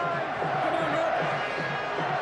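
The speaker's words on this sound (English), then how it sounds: "Listen to this crowd." Stadium crowd at a rugby league Grand Final between Leeds Rhinos and Bradford Bulls, a dense roaring, chanting mass of voices at a distance, rising and falling rhythmically.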